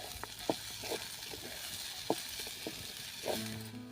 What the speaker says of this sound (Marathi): आपण इथे वाटाणा घेतलेला आहे तो वाटाणा देखील यामध्ये टाकला आहे तर पुन्हा एकदा आपण परतून घेऊया